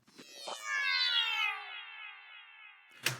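A synth one-shot preset named What a Ride with delay added: a shimmering, descending cascade of bright harmonic tones with soft percussive hits early on, fading into echoes before a sharp noisy burst at the end, with no voices.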